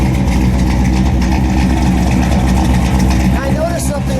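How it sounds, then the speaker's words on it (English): A 1963 Chevrolet Impala hardtop with a 409 V8 idles close by, a loud, steady low rumble with an even pulse, while someone talks briefly over it near the end. "That is one steady engine."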